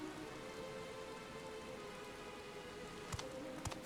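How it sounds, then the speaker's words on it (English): Steady rain pattering on surfaces in Final Fantasy XIV: Dawntrail, a soft continuous hiss with a couple of sharp drip-like ticks near the end, no talking. "It's raining!"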